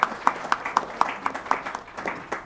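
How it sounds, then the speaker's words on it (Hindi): Light, evenly spaced claps ring out at a steady pace, sounding like a small audience clapping at a distance at a lecture. "तालियों से उनका स्वागत करना चाहिए।"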